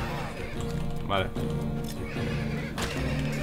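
A horse in a western roguelike video game gives a loud neigh over busy game music and effects, a single whinny near the start, with someone talking during play.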